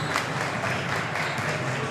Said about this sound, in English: Benedictine players clapping into the huddle.